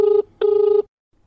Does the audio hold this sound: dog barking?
no